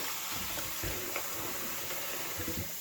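Tap water runs steadily into a kitchen sink while raw chicken pieces are rinsed after soaking in lemon and salt, a continuous close splashing wash with small spatters and no voices.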